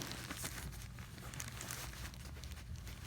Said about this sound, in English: slide the plastic off of this corner